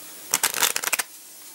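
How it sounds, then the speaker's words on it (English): Playing cards shuffled by hand during a card trick demonstration: a rapid burst of crisp riffling flutters and snaps lasting under a second, close and fairly loud, followed by quiet. "do some shuffling, do some cuts"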